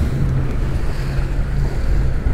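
Loud, constant rush of open-sea waves and gusting wind buffeting the microphone aboard a boat off Lanzarote, a dense unbroken roar with no voices.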